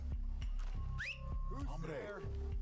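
A whistle lure in the Desperados 3 game, a short rising whistle chirp heard once over game ambience with hoofbeats and low rumbles, while someone talks throughout.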